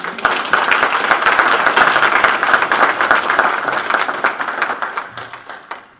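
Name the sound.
audience applause welcoming speaker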